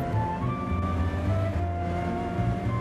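An ordinary car engine in the Roblox driving game RDSI accelerates slowly, with a steady droning hum and a rising tone, moderately loud and alone.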